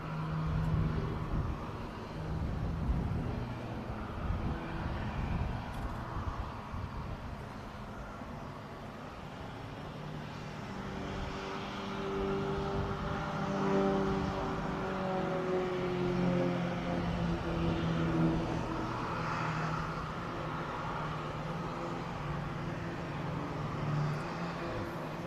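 A solo display aircraft tumbles through aerobatics at the Royal International Air Tattoo 2023, its engine a faint, distant rumble that swells and shifts in pitch over a low background roar.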